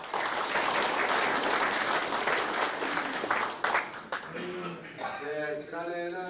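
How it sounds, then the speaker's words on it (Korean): Crowd applause at a city farming education session in Icheon, sustained clapping that thins out toward the end as a speaker's voice comes in over the last seconds. "함께 박수를 보내주시면 고맙겠습니다"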